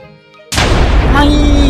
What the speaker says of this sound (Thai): เป็นระเบิดแบบระเบิดสายฟ้า